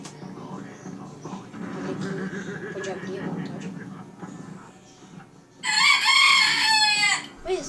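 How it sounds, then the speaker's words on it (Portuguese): Muffled talking is followed by a loud, close burst of chicken squawking and clucking, then the talk resumes. "galinha do vizinho tá enchendo o saco."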